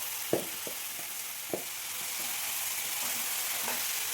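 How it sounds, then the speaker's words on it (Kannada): Yogurt-marinated chicken frying in hot oil in a pan gives a steady, close sizzle, with a few sharp pops and clicks early on. "ಎಣ್ಣೆ ಕಾದಾದ್ಮೇಲೆ ನೆನೆಸಿಟ್ಟಿದ್ರಲ್ಲ ಆ ಚಿಕನ್ ಹಾಕ್ಕೋತೀನಿ."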